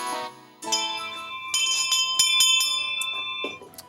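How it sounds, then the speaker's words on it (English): A bell rings out clearly several times, bright strikes whose tones ring on and overlap, close and fairly loud with no talking. "that bell usually means that it's time for everyone to leave."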